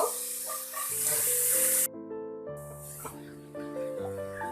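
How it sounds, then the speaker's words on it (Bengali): Chopped figs hit a hot pan and fry with a steady sizzle while a vegetarian fig stir-fry is cooked; the sizzle breaks briefly mid-clip and resumes, under a layer of tonal background music. "এখন আমি কুচি করে রাখা ডুমুর গুলো দিয়ে দিব।"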